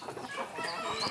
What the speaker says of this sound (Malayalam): നാടൻ കോഴിക്കളാണേ